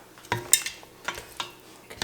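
Lamb shoulder chops are stirred into curry in a pot, making a few scraping, clattering strokes of a spoon against metal over a faint background, close by, with no voices.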